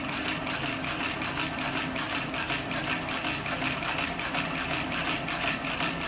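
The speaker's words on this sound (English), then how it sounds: "it sews just as smooth as it would the lighter weight leather." A TechSew 2750 industrial sewing machine stitches through thick leather, a steady fast mechanical hum with an even rapid needle pulse running throughout at moderate loudness, no speech.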